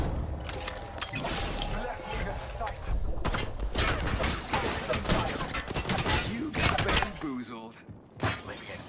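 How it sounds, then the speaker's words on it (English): Video game gunfire in a chaotic fight, continuous bursts of shots with shattering and impact effects, dense and loud throughout, under game voice lines. "Getting shot at."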